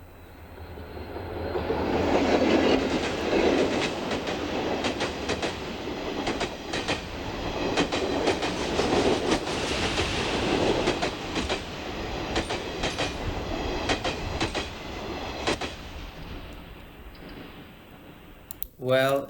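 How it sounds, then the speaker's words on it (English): A train passes by, a long broad rumble with rhythmic clickety-clack of wheels swelling and lingering for most of the stretch before fading out. "this is the sound of a train passing by"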